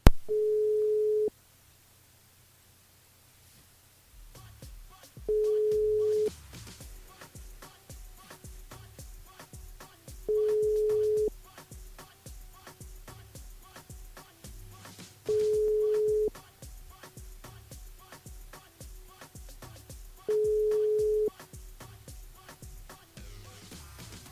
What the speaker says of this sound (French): Ça sonne mais ça répond pas.